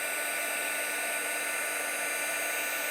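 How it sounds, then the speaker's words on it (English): A heat gun blows a constant, even hiss of hot air at moderate loudness, unchanging throughout with no voices. "It just takes a couple of minutes just for my heat gun to warm up"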